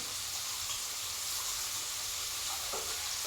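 Vegetables sautéing in plenty of oil in a pan, a steady close sizzle and hiss running throughout with a few faint stirring scrapes near the end, no voices.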